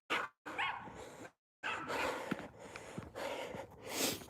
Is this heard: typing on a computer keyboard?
no